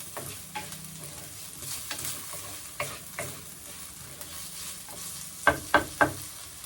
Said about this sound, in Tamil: போட்டு நல்லா இதை ஃப்ரை பண்ணிக்கலாம்